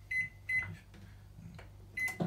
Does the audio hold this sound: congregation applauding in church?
no